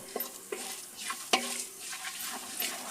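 Annatto seeds sizzling in hot cooking oil in a wide wok for Bulacan-style tinola, a steady close frying hiss broken by a few sharp clicks and spatula scrapes, with no talking.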